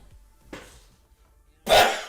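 A single loud, sharp sneeze bursts out close by, preceded by a short breathy intake, then silence.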